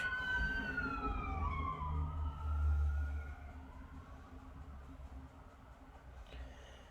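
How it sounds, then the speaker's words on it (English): Sirens wail in the distance, their pitch sweeping up and down over a low city rumble, then fading out. "Sorry about the sirens in the background."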